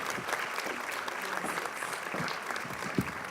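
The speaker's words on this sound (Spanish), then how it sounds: "Démosle el más fuerte de los aplausos a quienes son heroínas y héroes que hacen el trabajo" Audience applause fills a panel event on the care, protection and reintegration of trafficking victims, steady clapping at moderate volume throughout with a slightly louder clap near the end.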